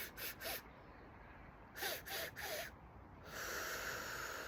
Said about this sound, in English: in through the mouth, and we're going to do those 3 sharp breaths